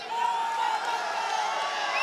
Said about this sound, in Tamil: இங்கே ஒன்றாக ஒரே வேனில் நின்று பிரச்சாரம் பண்றதை பார்த்தது நீங்க ஆரவாரம் செய்கிறீர்கள்.